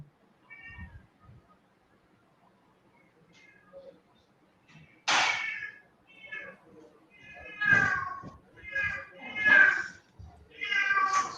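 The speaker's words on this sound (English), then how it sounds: "I'm sorry, there is a cat." A house cat meows several times in the room, fairly close and clear, with short repeated cries in the second half and soft rustling before them.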